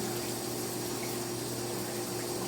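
Shower water running steadily and close, a constant broadband hiss with a low hum underneath, spray aimed at the wall to soften it; no talking over it.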